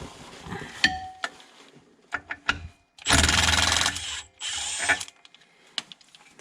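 Tool work on a Datsun 240Z front spindle, knocking out the lock pin: a few sharp metallic clicks and taps, then two sustained, loud mechanical bursts close by, with no talking.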